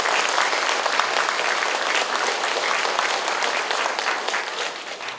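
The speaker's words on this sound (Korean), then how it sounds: "오늘도 좋은 말씀 전해주신 장로님에게 여러분 다시 한번 박수해 주시기 바랍니다" A church gathering's audience claps for an elder speaker, a full, sustained burst of applause filling the room and tapering slightly at the end.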